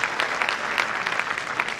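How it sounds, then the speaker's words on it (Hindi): An audience claps loudly for the host Meghna at a stage event, a dense, steady burst of applause lasting just under two seconds, with no voices. "तो मेघना जी के लिए भी जोरदार ताली बजाए तो अच्छा है।"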